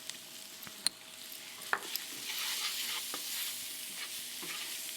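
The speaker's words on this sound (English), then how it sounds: "Now we're gonna sprinkle in a couple tablespoons of flour to thicken our sauce." A spoon stirs flour into frying onions in a pan to thicken a sauce for a deviled chicken casserole, a soft steady sizzle broken by scraping strokes and a few sharp clinks against the pan.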